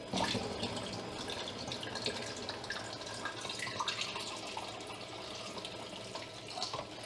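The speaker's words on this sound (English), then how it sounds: "I will just wash it with water" Tap water runs steadily and splashes into a film developing tank during rinsing, a continuous close rushing with small sloshing changes throughout.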